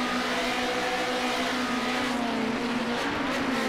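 A 1973 BMW 2002 race car in Project Cars 2 accelerating hard, a steady loud engine drone with rising pitch, close and continuous throughout.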